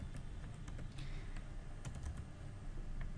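Steady typing on a computer keyboard while entering Excel VBA code, a continuous stream of close, soft key clicks over a low background hum, with no voices.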